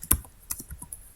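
Close, crisp keystrokes on a computer keyboard, a quick burst of five or six taps of uneven rhythm while typing a console.log line of JavaScript.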